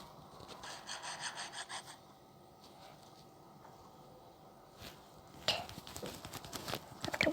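A small file rasping back and forth in a video game, a short run of rhythmic scraping strokes followed by quieter handling noises and a louder scrape near the end.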